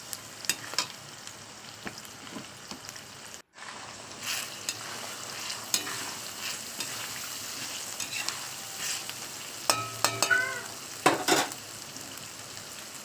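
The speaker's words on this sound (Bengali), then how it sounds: "প্রথমে রসুন দিলাম, তারপর আদা দিলাম, দিয়ে ভালো করে তেলের সঙ্গে মশলাটা কষিয়ে নেবো।" Garlic, ginger and ground spices sizzle and crackle steadily in hot oil in a pan for biryani, with scraping stirs and a few metallic utensil knocks, close and continuous without speech.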